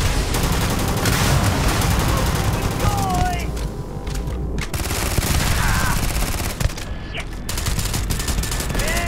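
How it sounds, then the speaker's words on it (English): Rapid automatic gunfire from the video game Starfield fills the scene in dense, continuous bursts, loud and close, with a player talking over the shooting. "Why do none of my bullets do damage to this guy?"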